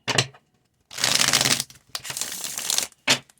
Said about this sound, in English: Let's do 2 more shuffles here.